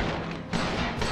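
Rapid gunfire from Resident Evil 5, dense and loud throughout with a sharp renewed burst about halfway, no voices over it.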